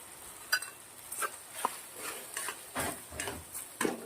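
Rice frying in oil in a kadai for khari kadai pulao, with soft sizzling under repeated scrapes and taps of a spoon stirring the pan, close and fairly quiet.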